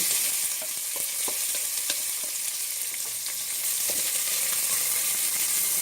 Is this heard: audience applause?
no